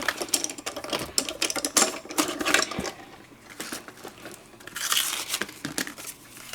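A die-cutting machine runs a large gift card bag die through, giving a close, busy run of rattling, crunching and clicking bursts that rise and fall.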